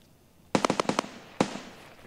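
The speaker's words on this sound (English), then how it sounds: "Maybe it was just like shots overhead of me, like from that guy shooting." Gunfire in Escape from Tarkov during a scav raid at the pier: a rapid burst of five or six sharp cracks, then one more loud report a moment later, distinct and fairly close, with no talking.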